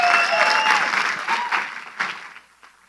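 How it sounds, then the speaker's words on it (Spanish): A church congregation bursts into loud applause, with sustained clapping carrying tonal voices or music underneath before it fades away. "un aplauso para esa casa tan bella"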